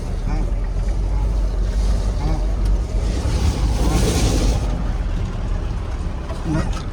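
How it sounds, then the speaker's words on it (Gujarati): A vehicle loaded with wood drives out of a mostly dry, shallow river along a track made through the riverbed, its engine rumbling continuously nearby under heavy wind buffeting on the microphone. "અત્યારે બહાર કાઢી રહ્યા છે ગાડી"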